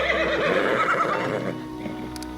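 A horse whinnies in the video game Pathfinder: Kingmaker, a loud, drawn-out neigh over the first second and a half, fading into quieter game ambience.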